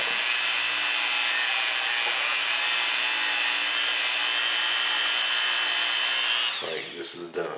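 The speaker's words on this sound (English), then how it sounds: "just buff it till you get a mirror finish" A power tool buffs a Smith & Wesson M&P pistol sear to a mirror finish, giving a steady, loud high-pitched whine that holds constant for several seconds before winding down near the end.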